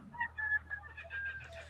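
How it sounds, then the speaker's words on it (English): A rooster crows at a distance, answering kookaburras, with wavering harmonic calls over a low steady hum and no speech. "Your kookaburras are setting off the rooster."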